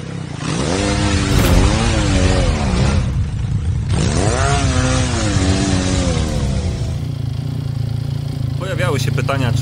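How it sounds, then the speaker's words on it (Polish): Benelli TRK 502 motorcycle ridden with a loose, slapping chain: loud engine noise rising and falling through gear changes, with someone talking over it throughout. "Łańcuch oczywiście lata"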